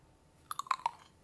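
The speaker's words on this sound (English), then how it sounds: "Today we're gonna do an ASMR moment of this crunchy grape for you." A crunchy grape is bitten and chewed close to the microphone, a quick burst of four or five crisp, wet crunches lasting under half a second, set against near silence.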